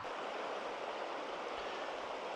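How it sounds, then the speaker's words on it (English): River water running steadily past a remote camp, a continuous broad rushing wash that stays even and moderately loud with no talking. "Hear the sound of the water running by."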